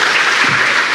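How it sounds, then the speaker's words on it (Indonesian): An audience at a stand-up comedy show applauds, a loud, dense, continuous wash of clapping from many hands. "Tepuk tangan sekali lagi dong."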